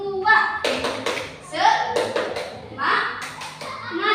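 Third-grade children in an Indonesian classroom clap in a quick rhythm while chanting the 'tepuk semangat' clapping chant together in loud voices, sharp hand claps punctuating the shouted words.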